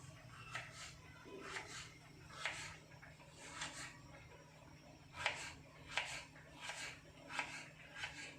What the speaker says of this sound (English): I'm gonna start chopping them in the size that I want them to be